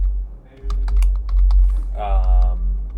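Computer keyboard keystrokes while LaTeX math is entered, a quick run of separate clicks over a low steady hum, with a voice briefly audible near the end.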